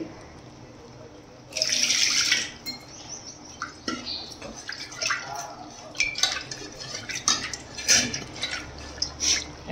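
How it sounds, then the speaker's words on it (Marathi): Water splashes and trickles into a pot of dal for a couple of seconds, followed by scattered clinks and light kitchen clatter. "मी थोडं पाणी टाकून राहिले आता याच्यामध्ये."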